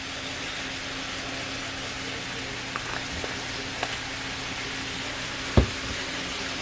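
Meat fries in a pan seasoned with garlic powder and onion powder, giving a steady, even sizzle throughout, with a few faint clicks and one sharper knock near the end.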